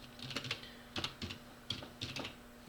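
A comment being typed on a computer keyboard comes through as quiet, close clusters of quick key taps separated by brief pauses, with a faint steady hum underneath.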